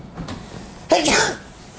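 A single sharp sneeze bursts out nearby, a quick breathy intake followed by an explosive burst that trails off.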